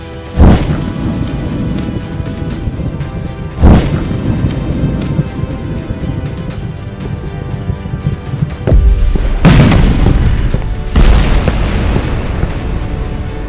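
Dragons attacking outside a monastery set off four heavy, booming explosions spaced several seconds apart, each one loud and close, over a continuous rumbling roar like a downpour.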